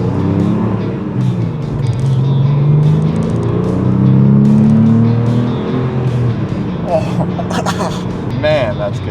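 A Porsche 911 engine drones low and steady on an open road, its rumble rising slightly mid-run, with someone talking over it throughout.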